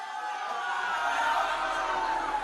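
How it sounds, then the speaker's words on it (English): A live audience boos a man as he walks back to his seat, a steady, dense wall of jeering crowd noise that swells slightly and holds for a couple of seconds. "They're booing him to his seat."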